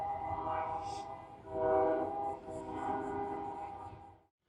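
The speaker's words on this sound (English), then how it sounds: "Can you hear the train horn?" A train horn blows in long sustained tones, swelling louder in the middle, heard from some distance with rumbling rail noise underneath, then cutting off abruptly at the end.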